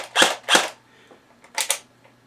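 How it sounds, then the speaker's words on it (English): An APS UAR airsoft gun fires in semi-auto, two sharp snapping shots close together, a pause, then another quick pair of cracks, loud and near with nobody talking. "gun is back together, and it is firing"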